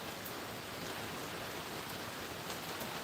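Rain pours steadily at a desert off-grid homestead, an unbroken soft wash of noise with faint drop patters and nobody speaking.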